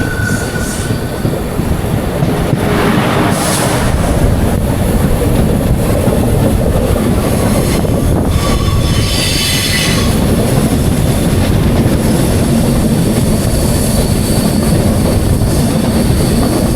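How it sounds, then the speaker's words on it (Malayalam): An LHB express train runs slowly over a curved track near Kollam railway station, with a steady loud rumble, rattling wheels and bursts of high metallic squeal, heard close and continuous. "ഇതുവഴി ഇങ്ങനെ ട്രെയിൻ ഇങ്ങനെ ആ ഒരു സ്ലോയിൽ പോകുമ്പോൾ ആ ട്രാക്കിൽ നിന്ന് വരുന്ന സൗണ്ട്"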